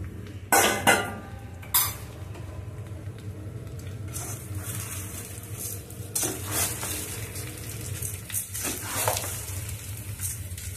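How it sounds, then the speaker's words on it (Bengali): Washed, dried grains of rice sizzle and rustle in a hot pan while a spoon scrapes and stirs, with a couple of sharp metal clinks. "চালটাকে আমি ভালো করে ভেজে নেবো।"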